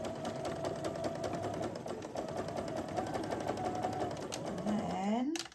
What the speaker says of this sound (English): I'm going to start off with my back stitch because this will stop, it will keep the tension when I do my row of sewing.